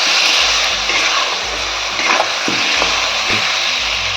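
Spice paste with potatoes, salt and Kashmiri chilli frying in a pan, a loud steady hiss and sizzle with a few faint clinks and stirring scrapes beneath it, close up and without talk.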